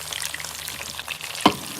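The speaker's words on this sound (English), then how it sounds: "Frying them up." Green bananas frying in a pan sizzle steadily at close range, with light stirring scrapes and a sharper pop or clatter near the end.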